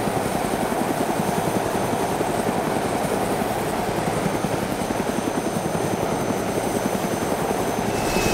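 A C-130 transport plane flying in the game DayZ gives a steady, loud propeller-engine drone with a fast rhythmic throb, continuous and unbroken throughout.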